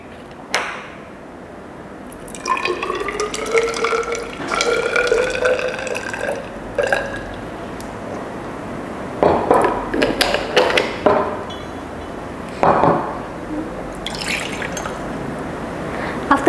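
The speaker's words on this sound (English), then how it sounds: "using this 100 cm cube measuring cylinder, you will add 50 cm cube of FA1, which is your ethane diol acid, into the beaker." Ethanedioic acid solution poured from a 100 cm³ measuring cylinder into a laboratory beaker, heard as gurgling, splashing liquid with glassy clinks and bubbly glugs over about sixteen seconds, close by and with no talk.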